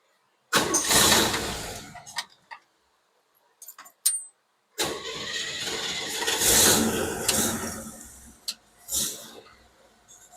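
Car engine cranking and catching, then running with revs rising and falling, close and moderately loud, broken by short pauses and clicks.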